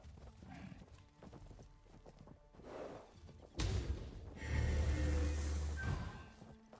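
A horse gallops in the online fantasy game Fractured Online, the rhythmic hoofbeats starting soft and sparse, then growing louder and denser with a swooshing rush of movement.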